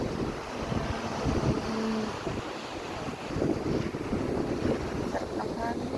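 Strong wind gusting across the end of a seaside boardwalk in Sabang, Cabugao, with rough waves breaking on the water below, a steady loud roar buffeting the microphone throughout.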